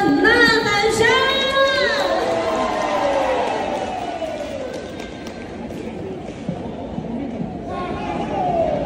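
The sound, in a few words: audience applause, cheering and shouting after performance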